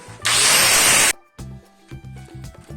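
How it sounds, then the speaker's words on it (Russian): An angle grinder rounding the edges of wooden boards whines loudly for about a second and then stops. Quieter clunks and scraping follow. "здесь пройдусь болгаркой, чтобы их слегка закруглить."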